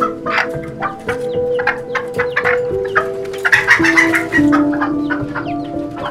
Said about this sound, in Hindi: Hens are kept in a coop.